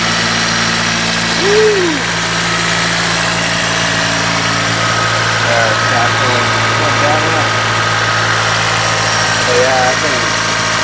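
A Honda K24 turbo engine idles steadily on its first start, a constant close mechanical drone throughout, while a man calls out and talks over it.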